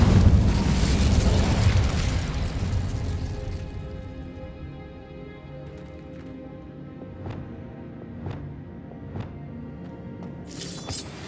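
Incendio fire spell in Hogwarts Legacy: a loud, roaring blast that swells over the first few seconds, then fades into quieter ambience with scattered faint clicks and a brief bright burst near the end.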